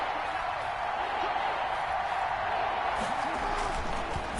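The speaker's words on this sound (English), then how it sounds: "this crowd's going to get even louder" Dense, steady roar of a packed football stadium crowd in Baltimore, a loud wash of cheering and noise that holds throughout with a slight swell near the end.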